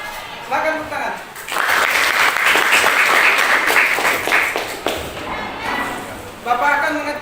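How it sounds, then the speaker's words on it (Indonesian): A group of vocational school students in a classroom claps for several seconds, a burst of applause between short stretches of talking. "Silakan tepuk tangan."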